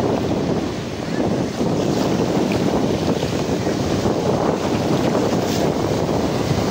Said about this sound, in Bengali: তো এই যে ঢেউ আসছে, তো দেখতেই পাচ্ছেন একদম কাছেই ঢেউ